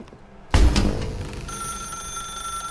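An old-style telephone bell rings loud and close in The Stanley Parable, a sharp burst followed by a steady electronic ringing tone that continues unbroken, with no voices.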